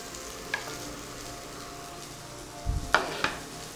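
Onion and green, yellow and red bell peppers sautéing in a pan for an oats chilla roll make a soft, steady sizzle, broken by several brief metallic scrapes and clinks of stirring near the end, with no voices.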